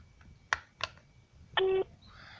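Telephone keypad tones during a French voicemail prompt: two short separate key beeps, then a longer steady dual tone, clear and fairly close over a faint line hiss.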